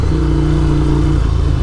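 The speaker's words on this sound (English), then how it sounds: "this is my first official ride with the new muffler on it" A Scrambler motorcycle with a newly fitted louder exhaust muffler runs steadily while being ridden, its engine a continuous loud rumble with a sustained low drone and no speech.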